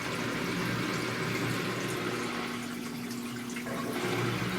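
Water drains steadily from an off-grid laundry machine, a continuous close rushing and trickling wash of sound with a slight shift in tone near the end, no voices.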